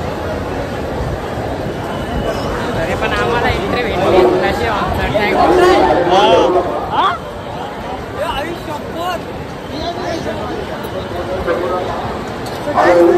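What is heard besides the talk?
crowd chatter at Lalbaugcha Raja Ganpati darshan, Mumbai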